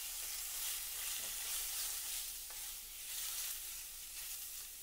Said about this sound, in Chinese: 记得这个咸鱼是用慢火来炸